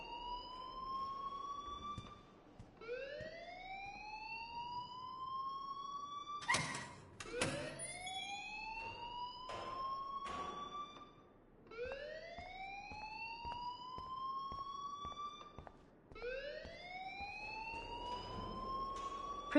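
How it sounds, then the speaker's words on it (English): A school alarm in the Life is Strange video game sounds repeatedly, each rising electronic sweep cycling in a steady siren-like pattern, loud and mostly on its own with a brief clatter in the middle. "please turn off that alarm since that's your job."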